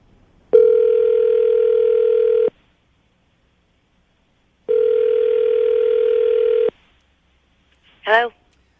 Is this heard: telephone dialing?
yes